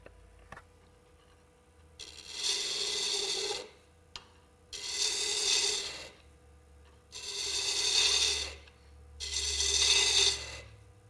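A wood-turning gouge cuts a cove into spinning wood on the lathe in four long rasping passes of about two seconds each, separated by brief pauses, loud and close with no talking.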